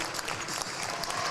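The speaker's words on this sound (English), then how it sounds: "And Eastern deservedly applauded off the floor by their home fans." Home fans at a Division 6 high school basketball final applaud their team off the floor, a dense, steady burst of clapping from a nearby indoor crowd.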